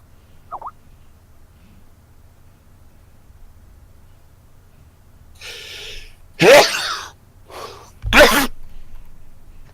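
A person sneezes twice in quick succession, close and loud against a quiet room, after a faint breathy build-up.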